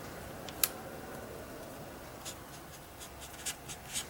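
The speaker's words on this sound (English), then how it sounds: "Okay, so we will write this out" A pen writing out a 3D vector problem by hand, a faint, steady scratch on paper, close and quiet, with a few light taps and tick-like strokes scattered through.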